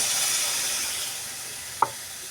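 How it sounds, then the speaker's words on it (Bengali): Water poured into a hot pan with coconut powder sets off a bright sizzling hiss that slowly fades, broken once by a short clink of a utensil. "কোকোনাট পাউডার অ্যাড করার পরে আমি বেশ কিছু জল অ্যাড করে দিচ্ছি।"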